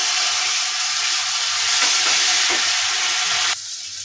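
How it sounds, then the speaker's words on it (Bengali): Onion, turmeric and garlic paste masala sautéing in a pan, a dense, bright sizzle holding steady close up, then dropping abruptly quieter near the end; no voices. "তো মশলাটাকে আমি 1 মিনিট মতো কষিয়ে নিয়েছি"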